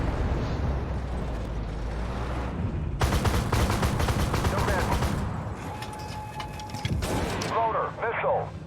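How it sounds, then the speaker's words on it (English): A mortar fires in the tank game Armored Warfare, a dull booming blast amid rumbling engine noise and mechanical clatter, with someone talking over the battle sounds. "And there goes a mortar."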